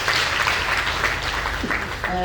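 Applause from an audience at a regional event gathering, a steady wash of clapping running throughout, with a voice speaking over it.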